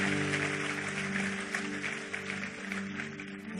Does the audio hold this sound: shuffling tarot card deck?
no